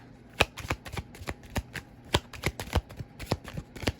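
Tarot cards are shuffled in quick, uneven bursts of crisp riffling slaps, heard close and moderately loud with no talking.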